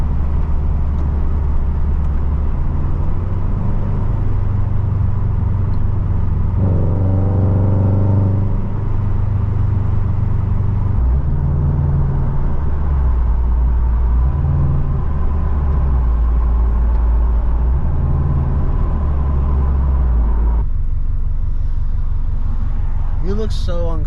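Tuned Toyota 86 engine running close by, a steady low drone that rises and falls as it revs and shifts through the gears, with a brief burst of higher whirring midway; people talk over it throughout.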